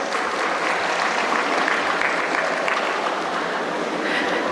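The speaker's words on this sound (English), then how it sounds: "you all deserve to give yourselves a round of applause" Graduates and guests clapping at a college graduation day ceremony, a steady roomful of applause holding even and loud for several seconds with no voices over it.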